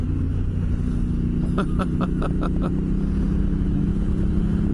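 An off-road vehicle engine rumbles steadily on a desert trip through bull dust, with a short burst of sharper revving pulses in the middle as more throttle is applied.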